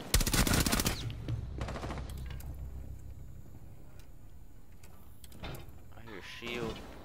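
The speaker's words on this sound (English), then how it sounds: "Where's that fucking AK coming from?" Rapid AK rifle bursts in a multiplayer shooter game, a loud close fusillade at the start followed by scattered distant shots and clatter, with a voice talking over the action.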